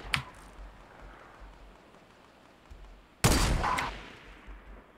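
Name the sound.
gunshot fired in a video game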